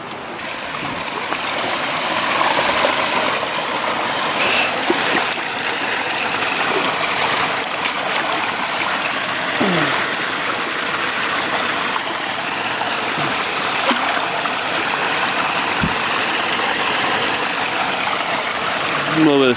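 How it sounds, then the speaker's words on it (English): Creek water rushes steadily under a small man-made bridge on a White Mountains backpacking trail, a loud, continuous close-up gush with a few scattered knocks and splashes. "This is the creek, and we can get some fresh water."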